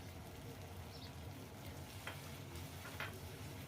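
Cashew and poppy seed paste cooks with rohu fish in a pan, a faint, steady sizzle close by with a couple of soft clicks from stirring.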